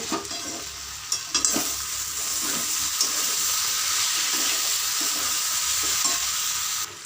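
Cabbage frying in a pan with slit green chillies is stirred, a few sharp clinks of the spoon at the start giving way to a steady, close sizzling hiss that carries on to the end; no talking.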